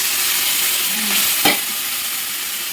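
A spice mix with whole seasoning goes into a hot pan, giving a steady, fairly loud sizzle and frying hiss, with one sharp clatter of a utensil in the middle and no talking.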